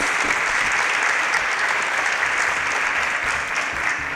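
Steady, dense audience applause at a quiz competition show as a semi-finalist is announced, loud and continuous for several seconds with no speech over it.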